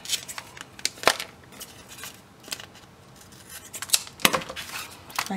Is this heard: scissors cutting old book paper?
yes